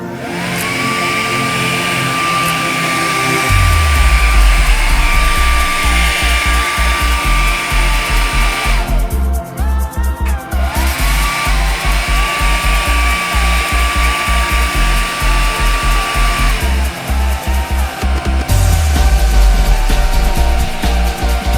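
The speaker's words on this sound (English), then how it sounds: "I love this Syska hair dryer at this price range" A Syska HD1610 travel hair dryer runs steadily and loudly for the whole stretch, its motor whine briefly dipping and shifting pitch as the setting changes, with no talking.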